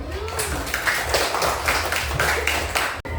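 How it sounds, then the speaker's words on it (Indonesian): A class gives applause for a student group, a short spell of steady clapping from many hands in a room, fairly close and even throughout. "berikan aplaus dulu"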